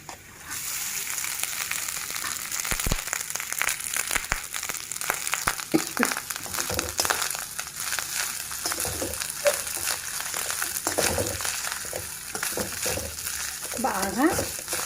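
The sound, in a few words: stirring cooked basmati rice into a frying pan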